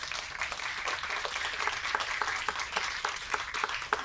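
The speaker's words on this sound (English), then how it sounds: "Let's give them a round of applause, everybody." An audience at a global health event during the UN General Assembly claps in warm, sustained applause, a dense crackle of many hands that holds steady throughout, with no talking over it.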